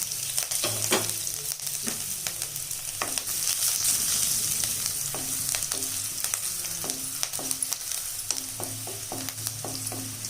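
Six or seven cut garlic cloves and a single green chili fry in oil with a steady close sizzle, broken by repeated clicks and scrapes of a spoon stirring against the pan.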